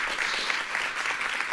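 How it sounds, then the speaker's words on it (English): Applause from an audience at a city council meeting, a dense steady patter of many hands clapping throughout, moderately close and without speech. "Clapping for something."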